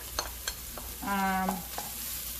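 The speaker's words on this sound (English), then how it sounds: "The vegetables have been sauteing for a while, and they're almost ready. So I will be adding all of my minced garlic." Minced garlic added to vegetables sautéing for a veggie risotto, a steady close sizzle with a few light taps and a brief tonal squeal in the middle.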